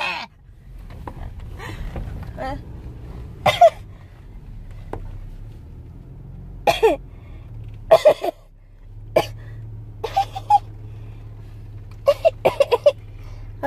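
Several short, sharp coughs come in scattered bursts, some in quick pairs and triplets, close by with quiet gaps between.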